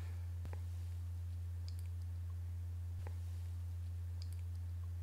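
A computer mouse clicks through coding software while upgrading the instrument cluster of a MINI F60 Countryman: three faint, isolated clicks spaced a few seconds apart over a steady low electrical hum.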